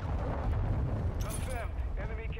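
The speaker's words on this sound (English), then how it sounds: "Friendly cruise missile inbound." A cruise missile strike explodes in the Call of Duty: Modern Warfare II video game, a deep sustained roaring blast with rumbling low end, while a voice talks over part of it.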